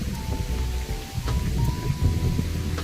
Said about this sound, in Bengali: বৃষ্টি পড়ছে ভালোই